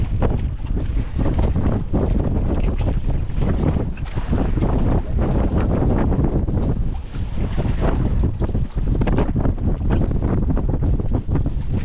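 Strong waves break over a small fishing boat in heavy wind, making a continuous loud roaring wash, with gusts buffeting the microphone and no speech.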